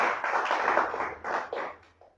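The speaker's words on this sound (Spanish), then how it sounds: "Dele un aplauso al Señor, hermano." Church congregation clapping during an evangelical service, a dense wash of applause that carries steadily for about two seconds, surges briefly, then fades out.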